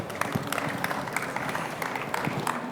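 Audience at a fintech event applauds with a steady patter of claps, moderately loud and continuous, with faint voices mixed in.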